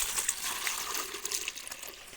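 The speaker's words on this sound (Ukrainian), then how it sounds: "доливаю води" Water poured into a herbicide sprayer tank to top it up to 15 liters, after saltpeter and an old shampoo used as a sticker were added; a steady, close splashing gush of filling liquid runs the whole time with no voices.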